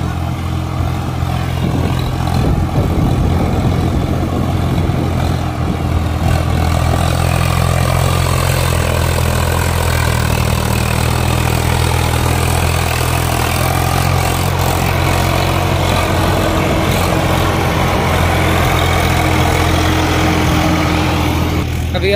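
A Swaraj 744 XT tractor hauls a fully loaded trolley up a ramp, its diesel engine a deep steady throbbing drone with a strong low hum, loud and continuous throughout.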